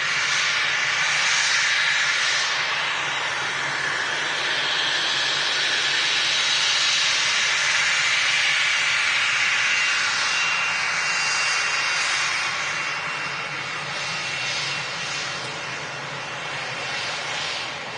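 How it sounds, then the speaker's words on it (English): A Cessna Citation business jet at Manchester Airport, operated by Air Hamburg, produces a steady loud hissing engine roar that holds for the whole span and fades slightly toward the end. "This is a Cessna Citation, probably the most common of the biz jets we see here in Manchester."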